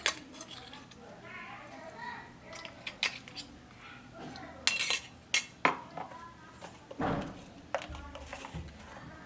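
A spoon clinks and taps against a bowl as crushed raw peanuts are added, giving a series of sharp metallic ticks and scrapes close by. A voice speaks over the sounds.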